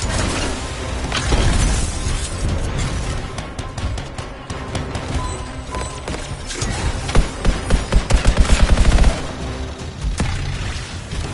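Sci-fi gunfire in the action game Anthem, a dense barrage of loud shots and impacts with a rapid burst of closely spaced cracks near the end.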